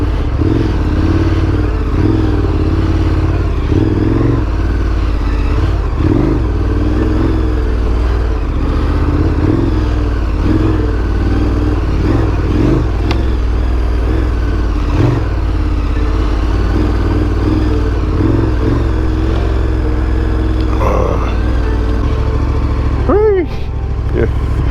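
A dirt bike trail motorcycle engine idles and burbles loudly and continuously up close, with a few small revs and clattering mechanical noise throughout, and no clear talking over it.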